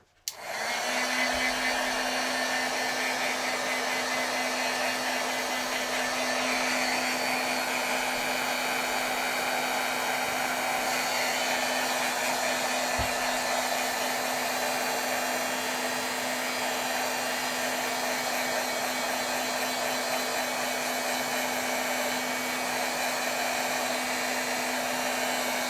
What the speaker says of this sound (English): Let's heat set this a little bit because I'm going to get some smearing on here if I don't.